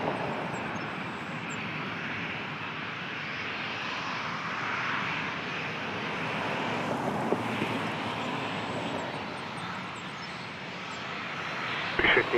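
A Boeing 737-800 at Toronto airport gives off a steady, broad jet engine roar at moderate distance, continuous throughout with some wind noise.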